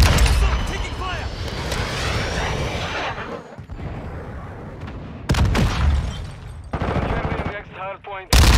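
Video game gunfire during a hardpoint control match: sustained machine-gun bursts and shots crackle loudly throughout, with brief lulls and renewed volleys, while game voice callouts speak over the fighting.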